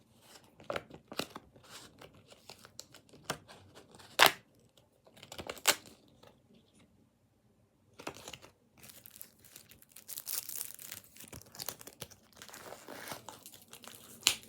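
A football trading card pack wrapper crinkles and tears in bursts at close range as it is opened, with short pauses between the crackling handfuls.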